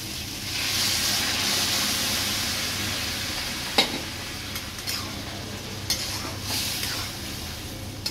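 Boiled moong dal poured into fried masala with fish head in a pan gives a steady close sizzle with stirring and a few sharp clinks of a spoon on the pot.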